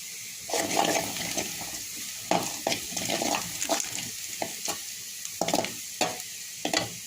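Onion and whole cumin seeds fry in mustard oil in a wok, a steady close sizzle broken by repeated scraping stirs of the spatula, with no talk.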